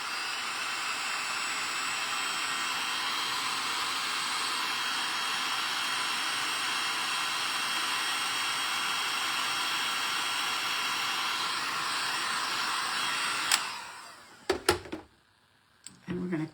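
A hair dryer blows steadily over a snowman craft, a constant loud whooshing hum that cuts off abruptly near the end, followed by a few clattering handling knocks and brief quiet.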